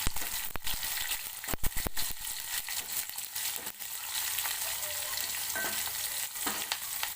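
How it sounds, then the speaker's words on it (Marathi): Curry leaves and slit green chillies sauté in a pan with a crackling sizzle, several sharp spatula scrapes and pops early on, then a steadier fry with light stirring. "मी हिरव्या मिरच्या मधून काप करून घेतल्या असं टाकूया आणि मस्त असं परतून घेऊया"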